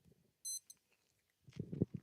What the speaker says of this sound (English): Yeah, that's my alarm for 6 a.m. that I set yesterday.